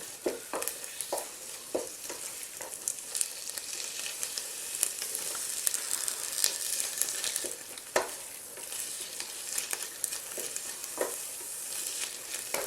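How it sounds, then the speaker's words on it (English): Olive oil poured into a pan of keema meat sauce sizzles with a steady crackling hiss, punctuated by occasional scrapes and knocks of a utensil, close and without speech. "So now we're going to add our olive oil."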